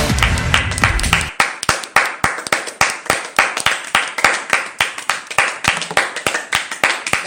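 A single person claps rhythmically on a French TV quiz show, about two sharp claps per second in a steady sequence, with murmured voices briefly at the start.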